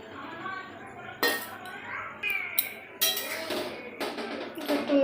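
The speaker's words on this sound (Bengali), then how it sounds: "একটু নেড়ে দিচ্ছি" Noodles being stirred in a pot of hot water on a home stove: a utensil clinks and scrapes against the metal pot several times at an irregular pace, close by, over a quiet background.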